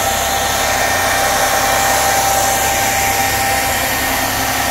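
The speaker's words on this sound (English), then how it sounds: "It's a portable line bore." A portable line bore machine runs with a loud, steady, unbroken mechanical whir and hiss that holds constant and stands alone with no talk.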